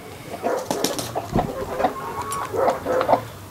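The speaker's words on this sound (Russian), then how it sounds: "Это клушка, вечная клушка, вечная." A broody hen clucks repeatedly in a farmyard flock of two-year-old Dominant chickens, a close, uneven string of short throaty clucks and soft calls with no talk.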